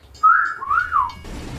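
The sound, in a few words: whistle sound used in video intro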